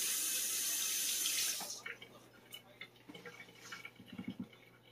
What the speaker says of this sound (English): Rinse my hand off again.